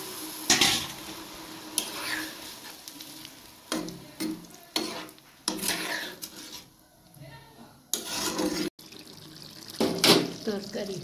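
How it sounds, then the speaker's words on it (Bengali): Water is poured into a jackfruit curry in a pan while it is stirred, giving bursts of splashing and sizzling separated by quieter stirring scrapes and clinks against the pot. "এখন আমি জল দিয়ে দিচ্ছি পরিমাণ মতো।"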